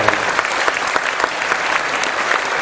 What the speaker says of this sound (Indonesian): Saya kira kita tepuk tangan untuk itu.